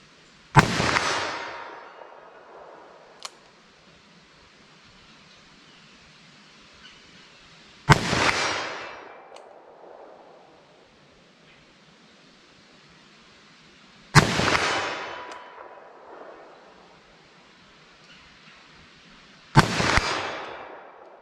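.357 Magnum revolver fired four times at slow, deliberate intervals of about six seconds, each shot a sharp loud crack followed by a decaying outdoor echo.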